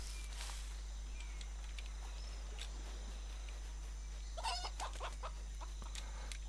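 A chicken clucking in the video game CryoFall, a few faint, short clucks and rustles over a steady low in-game hum, with no talk.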